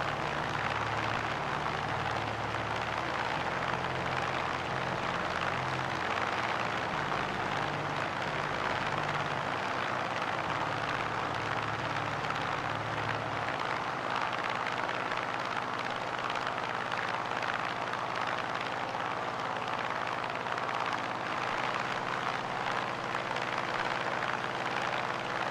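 A Grumman F6F-5 Hellcat fighter's engine in Microsoft Flight Simulator, flying over the Hawaiian islands before a touch and go. It gives a loud, steady droning roar with a deeper rumble that thins out partway through.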